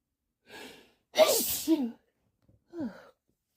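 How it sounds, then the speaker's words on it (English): A single loud sneeze with a sharp inhaled build-up, preceded by a short breath and followed by a brief exhale, close to the listener. "I have been sneezing all day."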